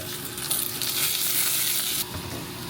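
Minced garlic fries in Italian chili oil, giving a steady, bright, close sizzle that stays dense and even before easing slightly near the end, with no talking.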